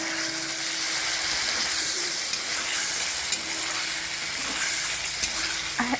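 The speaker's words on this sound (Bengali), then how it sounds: "এই যে পনিরগুলো আমি ভেজে নিচ্ছি" Paneer pieces fry in hot oil in a kadai, giving a steady sizzle with stirring scrapes and a few clinks, plus faint bird coos in the background.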